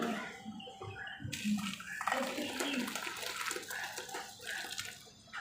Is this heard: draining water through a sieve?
yes